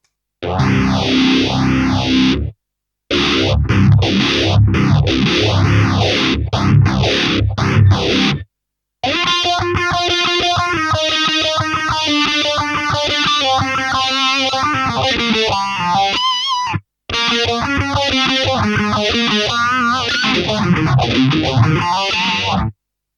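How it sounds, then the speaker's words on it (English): Electric guitar chords played through heavy distortion followed by a sweeping phaser effect on an Eleven Rack effects unit, loud and close, in several strummed passages separated by brief pauses. "Try phaser to start with, is after the actual distortion"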